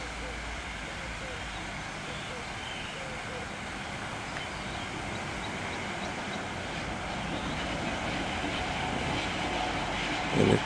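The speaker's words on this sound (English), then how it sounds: "And a train is passing" A steady, rumbling roar of a train passing overhead near a river waterfall continues throughout, with a low mechanical drone and no clear breaks.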